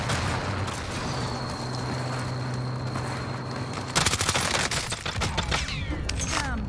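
Gunfire in Call of Duty Warzone, a battle royale shooter: steady game ambience with a whine, then a rapid burst of loud, close shots near the end.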